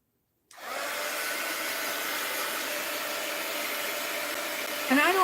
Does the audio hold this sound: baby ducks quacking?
no